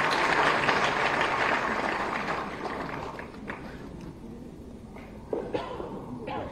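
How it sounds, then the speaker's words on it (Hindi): A crowd applauds loan beneficiaries at a government loan-distribution event in Uttar Pradesh, a broad wash of clapping that is strongest at first and then thins out, with a few scattered claps and some background voices near the end. "जोरदार तालियां होनी चाहिए इनके लिए"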